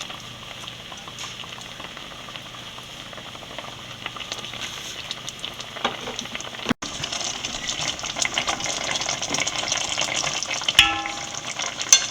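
Sardines go into a Kerala-style curry boiling hard on a high flame, making a busy bubbling and stirring clatter. A brief break comes midway, and the sound returns louder and denser.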